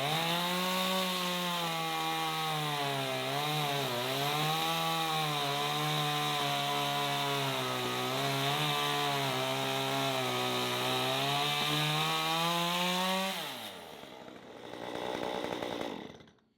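A chainsaw with a dull chain roars steadily and loud at close range while milling lumber, its pitch dipping as it bites into wood, then winding down and idling briefly before cutting off.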